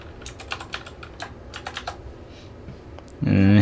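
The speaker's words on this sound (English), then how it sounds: "So we're gonna put in our password here" A password is typed on a computer keyboard in quick, uneven bursts of close, light key clicks, followed at the very end by a louder voice starting to speak.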